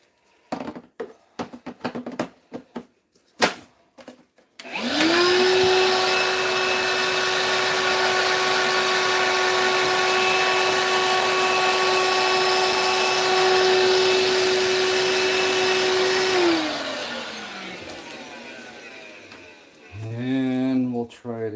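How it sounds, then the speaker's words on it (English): A vacuum cleaner roars steadily and close for about twelve seconds while grooming grass on a model Targa Florio Colletanno corner, then winds down; short knocks and handling clatter come before it starts. "now let's hit it with the vacuum real quick."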